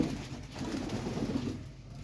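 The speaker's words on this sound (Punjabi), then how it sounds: "ਕਬੂਤਰ ਦੇਖੋ" Pigeons kept in a cage coo softly over a dense, continuous background murmur, with no clear separate calls standing out.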